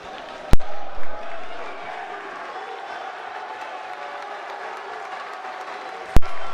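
A crowd at a high school wrestling meet in a gym, a steady wash of cheering and applause with a couple of sharp slams or bangs standing out near the start and end.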